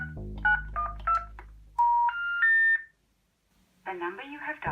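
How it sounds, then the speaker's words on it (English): A touch-tone telephone has a number dialed on it, a quick string of distinct DTMF beeps of varied pitch, with a short pause between tones. A brief burst of other sound follows at the end. "Let's phone that, see if that's still in business."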